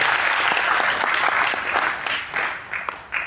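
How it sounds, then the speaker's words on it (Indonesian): An audience at an Epson corporate presentation claps in a dense burst that fades over about three seconds, with a few scattered claps trailing off at the end. "Tepuk tangan dong buat kita semua."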